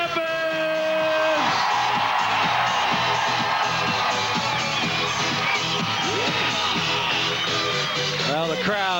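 Crowd cheering and whooping at a 1997 AVP beach volleyball final in San Antonio, a loud continuous roar of voices with rising shouts, while an announcer talks over it.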